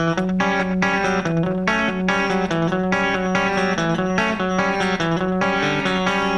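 A distorted electric guitar plays a quick melodic lick with sustained, effect-laden notes, loud and continuous.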